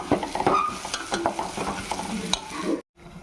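Small-onion paste for a spicy Andhra chicken fry sizzles in a pan under busy, close stirring clatter and scraping, then cuts off abruptly near the end before a faint hiss returns.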